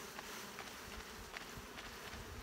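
Honey bees buzz steadily during a hive inspection, a dense, continuous drone of many insects at close range with no voices over it.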